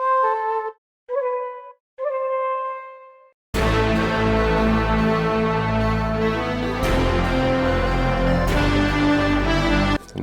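Woodwind sample from the Driller trap and drill plugin: three short breathy pipe notes alone, then a full dense beat kicks in with the woodwinds riding over it, loud and continuous.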